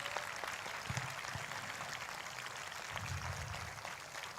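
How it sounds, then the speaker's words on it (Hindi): Congregation clapping together at a Christmas church celebration in Chandigarh, a soft, steady patter of many hands that stays even and fairly faint throughout, with no talking over it. "हर एक जन धन्यवाद तालियों के साथ करे।"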